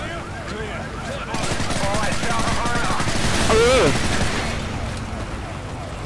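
Gunfire and a grenade blast from the video game Call of Duty: Modern Warfare 3, rapid rattling shots and a heavy rumbling burst swelling midway and fading, with voices talking over the game action.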